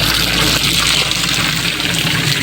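Water runs steadily into a container in a continuous loud gushing pour close by, with no pauses.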